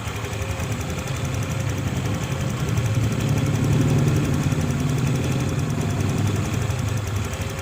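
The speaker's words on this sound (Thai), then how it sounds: "แค่ทำคลิปเกี่ยวกับ การสตาร์ทเครื่องนะครับ" A Honda Click 150i scooter engine runs steadily right after starting, a close, loud, even idle that swells slightly in the middle, with no talking.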